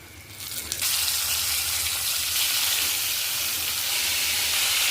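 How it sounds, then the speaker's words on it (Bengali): Flour-coated pieces of lotte fish sputter and sizzle in hot oil over a high flame, a loud, steady crackling hiss that swells as the fish goes in and holds up close throughout. "একদম গ্যাস বাড়িয়ে সামান্য ভেজে নেবেন।"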